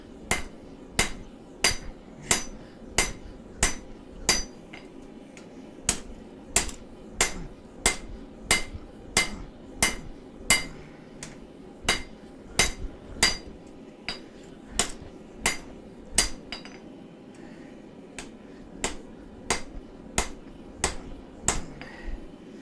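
Steady hammer blows on hot steel while forging a knife by hand, bright ringing strikes repeating at an even pace of roughly one per second, close and clear, with no talking.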